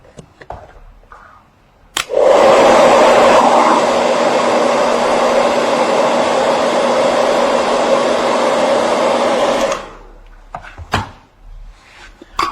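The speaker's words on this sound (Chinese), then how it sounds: "再把它吹干" A hair dryer switches on with a click and blows steadily and loudly for about eight seconds over a Chinese peony painting, then cuts off. Quiet handling noises and clicks come before and after it.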